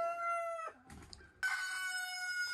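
A rooster crows near a chicken pen, a long harmonic call that breaks briefly in the middle and then resumes strongly, loud and alone with no talk.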